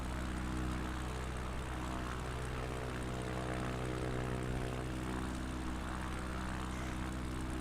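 Steady propeller airplane engine drone in Microsoft Flight Simulator 2020 during a Patagonia bush flight, a continuous loud hum with strong low harmonics and a slight rise as the throttle opens, with no talking.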